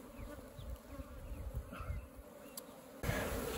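Apis honeybees buzzing around a hive frame pulled from a termite mound in an open pasture, a diffuse steady hum with scattered close passes, getting louder and harsher near the end.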